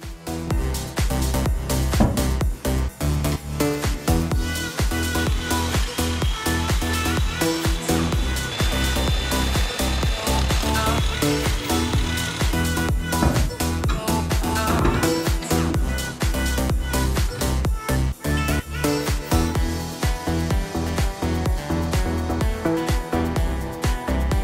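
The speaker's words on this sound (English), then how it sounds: "I'm gonna drill a hole through it in order I can mount the shaft to hold the bicycle wheel." A drill bores a hole through a metal pole in a workshop, a long continuous grinding whine with rhythmic bites and chatter, loud and close for the whole stretch, no talking.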